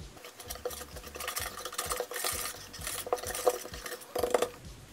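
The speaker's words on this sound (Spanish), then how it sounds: "Ahora los voy a revolver todos muy bien." A utensil stirs dry waffle batter ingredients and powdered sugar in a bowl, making quick rhythmic scraping and clinking strokes that build to a few sharper knocks near the end, close and moderately quiet, with no speech.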